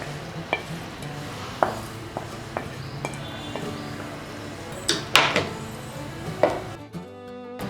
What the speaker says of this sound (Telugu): ఈ విధంగా మొత్తం పెరుగులో కలిసిపోయే విధంగా పూర్తిగా కలిసాక